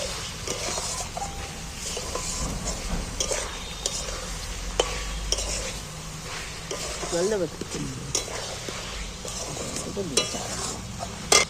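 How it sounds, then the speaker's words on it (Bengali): Egg being stirred and fried with spice masala in a pan, a steady sizzle running throughout with frequent scraping and stirring clicks from a utensil, close and moderately loud, with faint background voices at times. "এবার ডিমটা দিয়ে ভালো করে আরেকবার কষিয়ে নিচ্ছি।"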